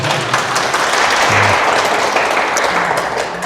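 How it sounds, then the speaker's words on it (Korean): An audience at a lecture on fortune-telling applauds with loud, sustained clapping from many people that fades slightly toward the end, with a faint voice underneath. "박수 한번 주세요."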